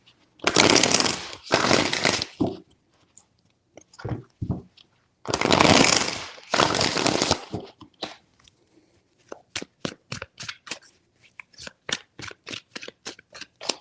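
Tarot cards shuffled by hand, two long riffling bursts followed by a quick series of sharp, evenly spaced snaps as the deck is tapped and cut, loud and close.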